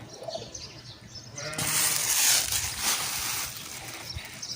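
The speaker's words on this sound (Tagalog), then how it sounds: "Yung mga kambing oh." A herd of stray goats passes by at midday in Saudi Arabia, giving a scattered bleat or two amid a steady outdoor hiss and rustle that grows louder partway through.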